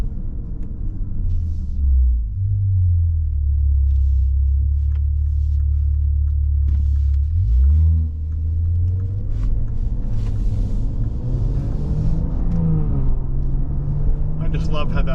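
Deep, steady engine rumble from a 2024 Maserati Levante GT Ultima SUV, a loud low drone that holds for several seconds, dips, then swells again with some rising revs toward the end.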